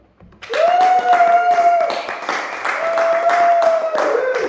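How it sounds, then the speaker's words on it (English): Wedding guests in Australia clap for the newlyweds, with close, irregular handclaps over a sustained tone, most likely someone's cheering or whooping, running through most of the few seconds. "Would you please make a loud, raucous applause as I introduce you for this first time here in Australia, Daniel and Mariana Reagan."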